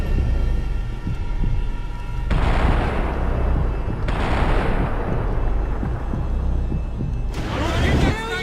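Heavy gunfire in the video game Max Payne 3 comes in three loud, sustained broadband bursts separated by brief lulls, over constant rumbling game ambience.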